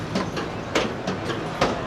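The Karakoram Express pulling away on its rails, a steady low rumble with periodic clickety-clack wheel beats at a moderate distance, fairly quiet and free of talk.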